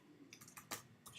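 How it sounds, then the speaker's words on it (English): A few quick keystrokes on a computer keyboard, faint and close, a handful of light clicks spread over about a second. "Let's type in 2013"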